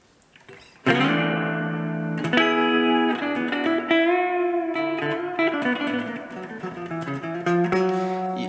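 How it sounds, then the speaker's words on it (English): A clean electric guitar rings out through a Marshall MG15FX amp, strummed chords and single notes with a lingering, splashy spring reverb tail, played alone. "I like to use the spring reverb more"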